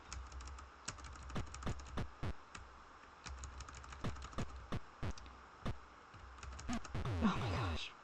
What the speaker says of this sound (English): This keyboard feels great.